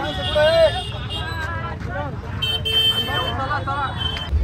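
Busy street traffic with several car horns tooting in short bursts over a constant roadway rumble, while people talk close by.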